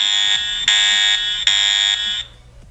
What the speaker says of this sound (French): c'est la sonnerie de mon téléphone pour me dire qu'il y a eu une alarme de déclencher